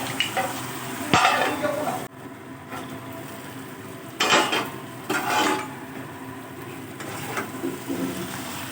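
Hilsa fish heads are stirred with taro leaves in a wok, giving scraping, rubbing strokes of a spoon against the pan in irregular bursts over a soft sizzle of frying.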